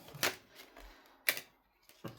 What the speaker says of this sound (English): So we'll give these a little bit of a shuffle.